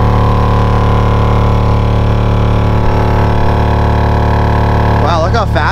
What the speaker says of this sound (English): turn the compressor on.